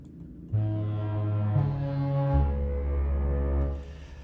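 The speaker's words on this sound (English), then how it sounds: "foghorn." A synthesized foghorn from a Labs sound library sounds a deep, sustained low blast with stepped pitch changes, rich in overtones, loud and continuous for several seconds before fading.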